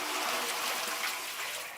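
Water pouring steadily into a mortar mixer for wall plastering, a continuous broadband splashing rush that holds at an even level for under two seconds with no talk.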